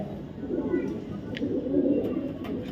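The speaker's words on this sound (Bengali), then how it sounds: "এগুলো আমার ব্রিডিং কবুতর" Breeding racer pigeons coo in a steady, low, overlapping murmur that fills the whole stretch, with a few brief higher clicks and rustles near the end.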